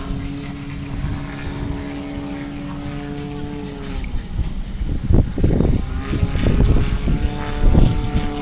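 Yakovlev Yak-54 55% scale model aircraft flying a slow roll at an air festival, its propeller engine droning loudly with a pitch that shifts through the manoeuvre while a commentator talks over it.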